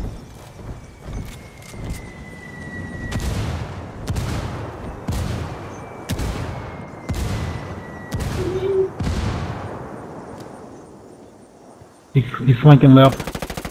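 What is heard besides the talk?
gunfire in the video game Ghost Recon Wildlands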